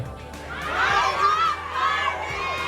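Crowd of fans shouting and cheering at a film premiere night, high excited voices rising together into a loud sustained cheer, then easing slightly.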